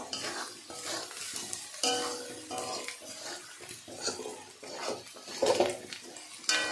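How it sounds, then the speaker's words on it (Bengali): Cumin powder is stirred in a frying pan (kadai) with a utensil, giving irregular scraping and clinking strokes over a soft, low sizzle, fairly quiet and close. "এবার জিরের গুঁড়োটা একটু নাড়াচাড়া করে নেবো।"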